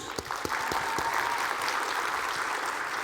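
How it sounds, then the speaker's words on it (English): An audience at a debate in New York City claps. A few distinct sharp claps open it, then it merges into a thick, sustained round of applause that stays level to the end. "Clap your hands, that matters."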